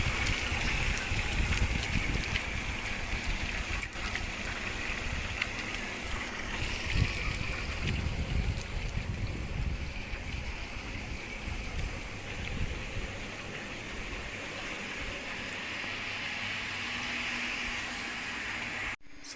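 Dairy vat wash pump on a New Zealand dairy farm running while filling a tub with hot water, a steady rushing, splashing drone throughout that ends abruptly.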